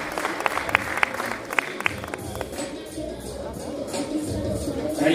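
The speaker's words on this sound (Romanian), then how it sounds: "Încă o dată aplauze pentru finaliștii Culturism Masters Open." A crowd applauds the finalists of a Masters Open bodybuilding contest, scattered sharp claps over a noisy hall murmur, fading into crowd noise.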